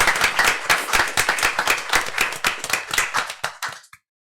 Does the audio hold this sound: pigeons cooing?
no